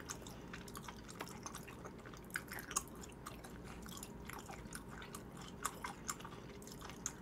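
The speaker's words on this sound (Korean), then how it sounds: "오늘은 씹는 소리가 좋을 것 같아요." Close, quiet mukbang chewing of stir-fried beef intestines and hagfish: wet, sticky squelches and small clicks repeat steadily and softly with no talking.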